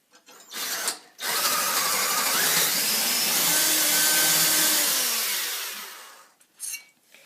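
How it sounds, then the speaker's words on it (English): A power drill whines steadily for about four seconds, boring a bolt hole 2 centimeters in from the edge of a metal angle, its pitch sagging slightly before it cuts off, framed by brief clicks and handling knocks. "you have to drill a hole right here 2 centimeters in"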